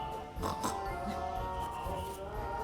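Snorting, grunting oinks like a pig, sounding like a voice imitating one, faint against a murky background hum.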